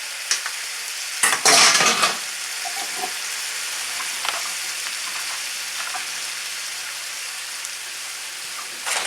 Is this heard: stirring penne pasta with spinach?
yes